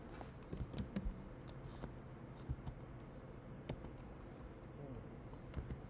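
Soft, fairly faint clicks of keys pressed on a computer keyboard, a few scattered taps over a quiet room background.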